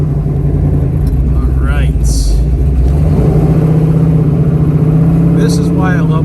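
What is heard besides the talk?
1970 Dodge Challenger Hemi 426 engine revving during test drive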